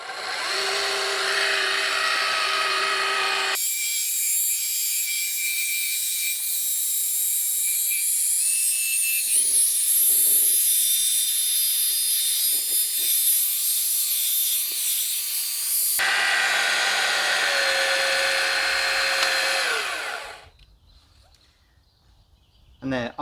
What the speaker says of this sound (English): This is a polishing pad, so it's quite soft to get around all the curves and not to heat it up too much.